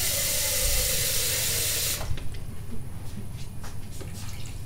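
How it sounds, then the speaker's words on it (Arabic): Water pours into a cooking pot of potatoes being boiled for purée, a steady close rushing splash for about two seconds that cuts off abruptly, leaving faint clinks and low kitchen noise. "فوالا درك نحط الماء"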